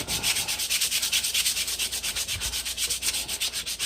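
Rhythmic sandpaper strokes rub back and forth across a wooden hatchet handle, a steady scratchy rasp repeating quickly and evenly at close range.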